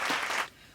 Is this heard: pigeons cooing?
no